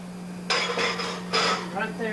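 A metal pie pan being put into an oven, a few close metallic clinks and scrapes against the rack over a steady low hum, with a clattering knock at the start and another pair of clanks shortly after.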